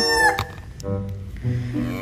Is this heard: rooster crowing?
yes